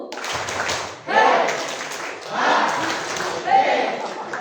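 A youth worship group clapping hands together in rhythm, bursts of group claps separated by pauses, with a voice talking in between.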